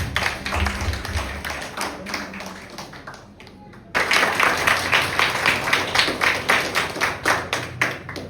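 Audience at a children's taekwondo club event, clapping that fades into quieter scattered taps, then a louder burst of applause that settles into rhythmic unison claps.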